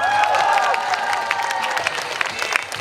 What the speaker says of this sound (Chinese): 再给他们一点热情的掌声好吗？